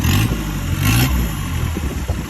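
A small dune buggy engine revs up and settles on sand dunes, rough and rumbling close by, with clattering mechanical noise around it.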